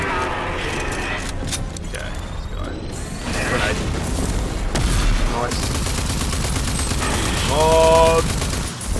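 Weapon fire against a Cyber Crusher boss in Rage 2: dense bursts, booms and mechanical clanks overlap in a busy, continuous barrage under game sounds.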